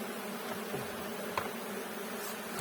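A honey bee swarm big enough to fill a hive gives off a steady, dense buzzing drone, close and continuous, with a few louder individual bees passing nearby.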